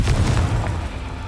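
Confringo fire spell from Hogwarts Legacy bursting into a heavy, close explosion, a deep boom with crackling debris that fades quickly, heard alone without speech.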